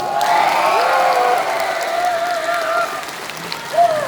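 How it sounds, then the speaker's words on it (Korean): A large audience applauds at an outdoor singing show in Andong, North Gyeongsang, a dense, steady clapping wash lasting throughout, with voices and cheers rising above it. "이렇게 큰 박수는 처음 받아봤어요."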